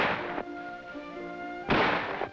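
An M14 rifle fires on a military shooting range, with two loud booming reports about a second apart, each followed by a ringing tail.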